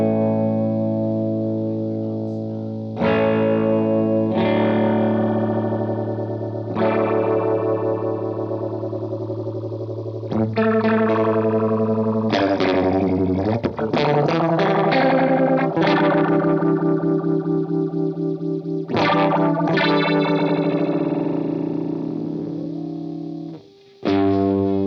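Vintage phaser pedals, an MXR Phase 90 and an EHX Small Stone, sweep a loud, sustained chord. The phasing swirls and whooshes continuously, its oscillation rate shifting between slow and fast, with no voices.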